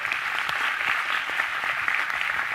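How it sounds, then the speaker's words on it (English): Steady, close applause from a conference session audience at a content marketing event, even and continuous throughout, with no one speaking over it. "Round of applause for Christine."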